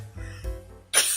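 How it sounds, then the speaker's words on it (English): A single close, sharp cough bursts out at the end after a low rumbling lead-in, loud and abrupt. "the cough is still here"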